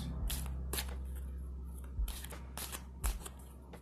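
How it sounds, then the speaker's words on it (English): Tarot cards being shuffled by hand, giving soft papery riffles and a few sharper slaps spread over a few seconds, close and fairly quiet with no talk. "I'm getting some more cards out here for you guys."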